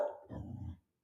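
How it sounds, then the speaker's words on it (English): A dog gives a short, low bark or grumble of under a second that stops abruptly, heard alone and fairly close in a quiet indoor room. "well, there's my dog."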